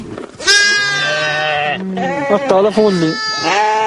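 Several sheep bleat close by inside a tent in the Atlas Mountains, long wavering cries overlapping one another, with a short pause before more bleats follow.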